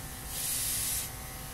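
A wireless airbrush spraying ink gives a short, steady hiss for about a second over a faint background hum, then fades back.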